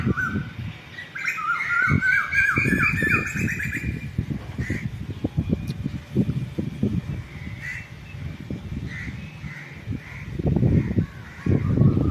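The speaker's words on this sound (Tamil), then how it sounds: "குயில் நல்லா பாருங்கள் மரத்தில் உட்காந்து கத்திட்டு இருக்கு" An Asian koel calls from a tree in a garden during rainy season, repeated rising whistled notes early on, with crow-like caws and other birds around and faint rustling noise throughout.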